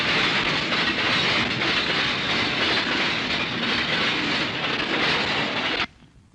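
A train rolls past a railway station platform with a loud, steady rush and rumble and faint wheel clatter. The noise stays constant and close, then cuts off abruptly near the end.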